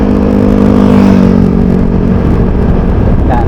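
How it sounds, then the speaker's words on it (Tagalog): A motorcycle engine revs loud and close in a steady, droning run that eases off slightly toward the end, with no talking over it. "Gagamit natin yung motor o."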